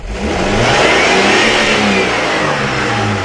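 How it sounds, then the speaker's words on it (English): 2004 Jeep Cherokee engine, being diagnosed for lean codes and misfires, revving loud and close as throttle is added, holding a steady high drone for the whole stretch with no talk. "let me go ahead and add some throttle"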